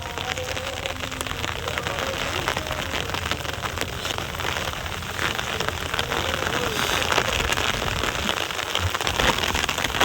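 Steady rain pours down outdoors at a fishing spot in Nellore, a loud, continuous hiss of drops hitting the ground and surfaces throughout, with no speech.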